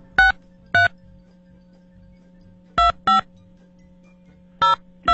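Several separate bursts of telephone keypad DTMF tones as a phone number is dialed on a TV show, with a steady low hum underneath and short gaps between each pair of beeps.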